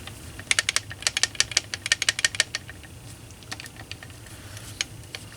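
A SIG Sauer MPX P9 rifle is shaken with its bolt held still, its upper and lower receivers giving rapid bursts of close, light clicking rattles in quick clusters, then a few scattered clicks.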